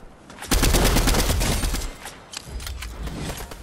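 Rapid bursts of gunfire from the video game Fortnite, loud and dense in the first half, then a quieter stretch with scattered, more distant shots.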